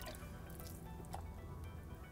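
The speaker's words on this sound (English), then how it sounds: "dropping the turkey in, and our water comes up to the top." A whole turkey is lowered into a fryer pot of water, giving soft wet dripping and sloshing sounds over a steady low background hum, faint and close.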